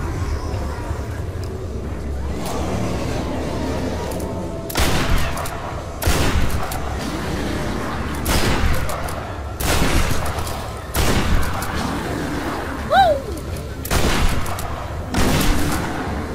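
Gunfire in the 2013 PC game Tomb Raider: a run of sharp, booming shots, singly and in quick bursts every second or two, over a steady rumbling game background with no talk.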